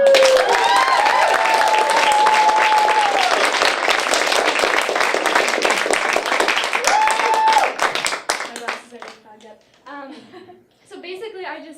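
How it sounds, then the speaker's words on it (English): An audience gives a round of applause for the owner and an intern supervisor, dense clapping filling most of the stretch before thinning into scattered claps, with a voice speaking and light laughter underneath. "we should all give the owner and my intern supervisor, Sarah, a round of applause"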